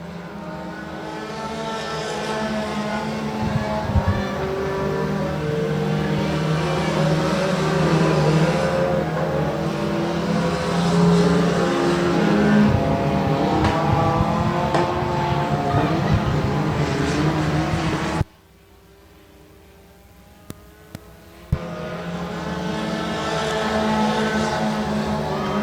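Race cars roar steadily around the Rose Bowl Speedway oval with a loud, continuous engine drone that drops away abruptly for a few seconds before returning, a race announcer talking over the noise throughout.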